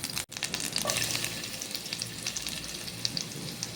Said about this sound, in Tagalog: Tapos magigisa tayo dito ng bawang sibuyas.